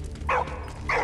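Dog in Valiant Hearts gives two short barks or yips about half a second apart, moderately close over a low steady background hum.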